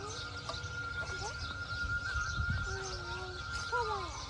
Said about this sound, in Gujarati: પક્ષીઓનો અવાજ પણ આવે છે